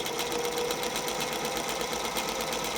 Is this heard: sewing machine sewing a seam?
yes